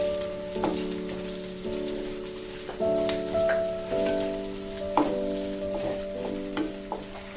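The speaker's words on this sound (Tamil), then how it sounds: "நல்லா வதக்கிக்கலாம்." Onions sizzle in a pan as they are stirred for street-style masala puri, a steady frying crackle with intermittent stirring scrapes under a tonal musical backing.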